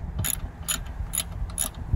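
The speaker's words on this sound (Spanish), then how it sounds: "Vamos a pasar a retirar este tornillo 13." A ratchet wrench loosens a 13 mm bolt on the pulley of an Exmark mower, giving four quick, evenly spaced metallic clicking bursts, close and fairly loud.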